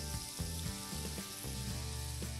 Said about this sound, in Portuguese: Eu tenho 2 dentes de alho triturado que eu vou colocar aqui para fritar.